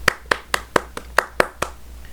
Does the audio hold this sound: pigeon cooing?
no